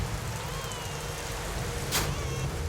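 Steady rain falls as a soft, even hiss across the whole stretch, with a brief brighter spatter near the end and no voices.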